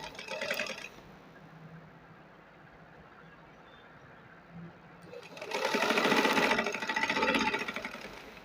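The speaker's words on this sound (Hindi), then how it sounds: "इसको इस तरह से ऊपर रखकर अब मैं सिलाई लगाऊंगी।" A sewing machine stitches lace loops onto a fabric sleeve in two loud bursts, a short run at the start and a longer, louder spell near the end, with quiet handling between.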